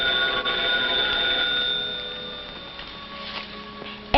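An old telephone bell rings steadily through a mid-century home interior, a continuous bright trilling tone persisting for several seconds over faint room hum, no voices present.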